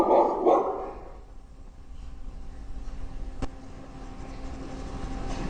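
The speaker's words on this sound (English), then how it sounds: "Gun dogs. They must be starting to shoot again." Gun dogs bark in a stage musical, a short burst of loud barks at the start that then fades into quiet stage ambience.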